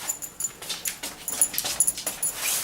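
A dog whines and whimpers in a string of short, high, uneven yelps close by, against a hissy background, with no one speaking.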